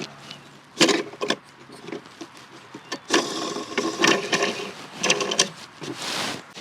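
Battery cover being unscrewed and removed in the trunk of an Audi A8 L 6.3 W12 Exclusive, giving a series of close, irregular clicks, scrapes and rubbing knocks of plastic and metal with short pauses between.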